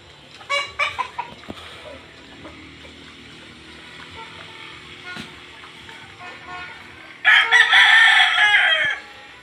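Backyard chickens cluck around a dirty coop, and a few short clucks are followed by a loud, close rooster crow near the end over faint ambient noise.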